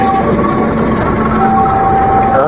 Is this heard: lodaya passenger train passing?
yes